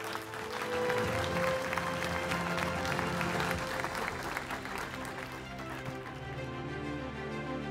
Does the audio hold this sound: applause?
yes